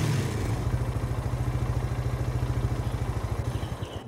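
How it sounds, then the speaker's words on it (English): A John Deere vehicle engine in a game mod runs at a steady idle, with an even, rapid low throb pulsing alone and close for about four seconds. "Can I be quiet so you guys can hear that engine?"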